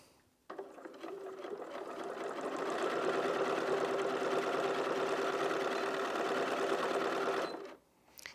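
A Bernina 475 QE sewing machine runs steadily for about seven seconds, driving the needle through eight layers of fabric. The motor whirs evenly and close, stopping abruptly at the end.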